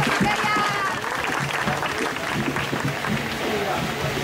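People applauding a participant after a María Lionza spirit-possession trance ritual: a steady patter of clapping from a group, with voices talking over it throughout.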